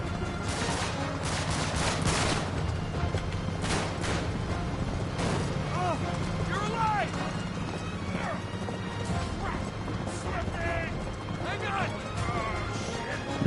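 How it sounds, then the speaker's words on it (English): Gunfire in Uncharted 3: Drake's Deception, mixed with galloping hooves and horse whinnies: rapid shots and clattering hoofbeats in a busy, continuous chase, loud and close, with speech over them. "No, don't shoot out my tyres."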